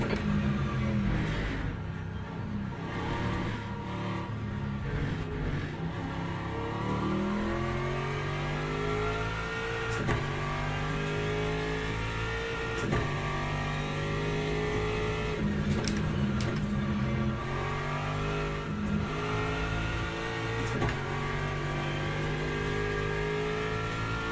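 Race car engine in a racing video game, leaving the pit lane and lapping the track: a continuous loud engine whine rising and falling through gear shifts, revving hard with no talk over it.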